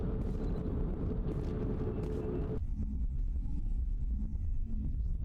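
Grenade explosions in the sci-fi shooter Mass Effect 1 give a heavy, continuous low rumble and booming roar that is loud at first and then drops abruptly to a duller, sustained rumble.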